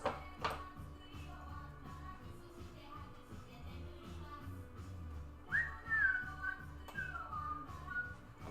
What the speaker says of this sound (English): I'm also whistling so you can level me against it.